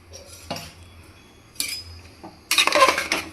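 A metal spoon clatters and scrapes in a pot as jaggery and lentils are stirred together, in a few separate bursts with the loudest, busiest scraping at the end.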